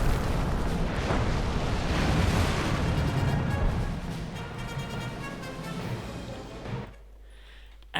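Artillery bombardment hits a base in Company of Heroes 2, a dense roar of overlapping explosions and rumbling booms that stays loud, then fades to quieter rumble near the end.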